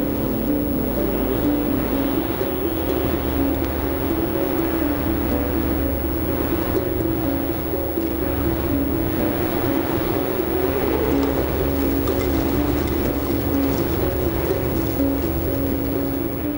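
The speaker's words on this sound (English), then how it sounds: "On this spring day, the wind reaches 35 miles per hour" Strong wind, around 35 miles per hour, roars steadily across a mountain observatory, a loud continuous rumble with low buffeting throughout and no voices.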